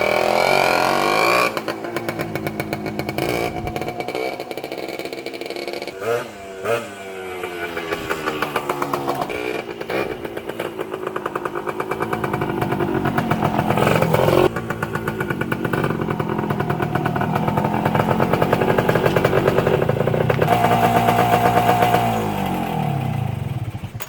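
A Yamaha enduro motorcycle engine running after sitting for twenty years, heard close and loud for the full span with a steady idle broken by several revs rising and falling.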